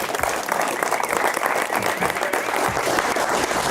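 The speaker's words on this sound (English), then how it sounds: "Give Alan a round of applause." An outdoor crowd at a footgolf tournament in Ireland claps steadily, a dense, even burst of applause with no voices over it.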